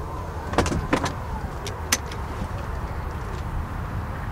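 A parked Tesla Model X opens its powered doors, with a few sharp mechanical clicks and whirs near the start over a steady low hum of the car's interior.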